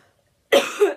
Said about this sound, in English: After I've had a cough and a sip of tea.